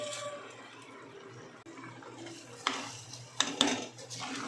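Quiet scraping and clinking of a spoon against a pot as rice is stirred for coriander rice, with a few sharper metallic knocks toward the end.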